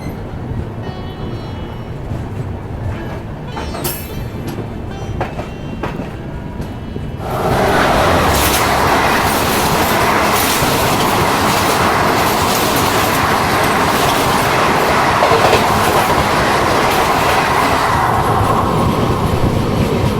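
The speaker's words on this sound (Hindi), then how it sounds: "जबलपुर से अजमेर के बीच में चलती है, दयोदय एक्सप्रेस" The Dayodaya Express pulls into an Indian station on the Jabalpur–Ajmer route, a loud, close roar of wheels and rolling carriages that swells suddenly and holds steady with rhythmic clatter.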